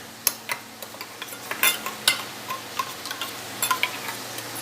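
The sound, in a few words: stirring cumin, coriander and chili powders with water in a bowl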